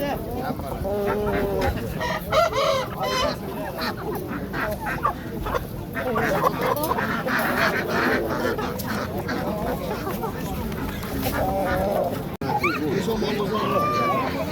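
Roosters crow and hens cluck among other fowl at the Baliqchi poultry market. The birds call repeatedly over a busy crowd and close-by people talking.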